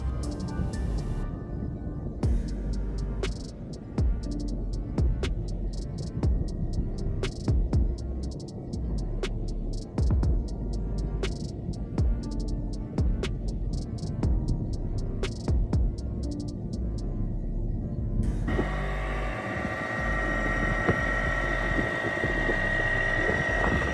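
Boat outboard motor fitted with a new aluminum propeller, running steadily with a continuous throbbing hum and rhythmic pulsing, close and fairly loud, its tone shifting near the end.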